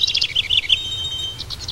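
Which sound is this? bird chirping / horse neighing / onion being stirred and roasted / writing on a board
bird chirping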